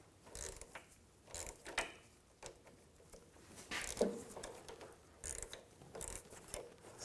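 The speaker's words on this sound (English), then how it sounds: "I'm going to use a 9mm wrench on the back, 10mm socket. Take this nut off." A 9mm wrench and a 10mm socket ratchet work a nut loose during front CV axle work on a 2000–2006 BMW X5 3.0L, giving a series of faint, irregular clicking ratchet bursts and metallic taps close by.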